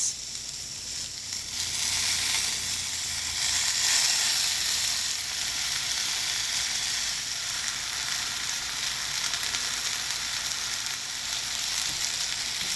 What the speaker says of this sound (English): We brush some olive oil on the grill, and we start grilling our Arayes.